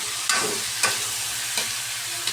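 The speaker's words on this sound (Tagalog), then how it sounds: "Gigisa muna natin itong karne mga susunod na natin yung gulay." Meat and vegetables sauté in a wok for pancit, a dense, loud, close sizzle with three or four sharp scraping stirs of the utensil, and no voices.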